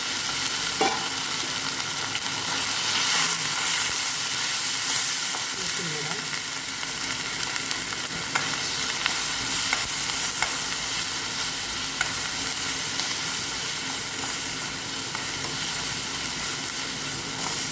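Continuous loud sizzling and hissing of ginger garlic paste frying in a hot pan, with occasional stirring scrapes; no talking.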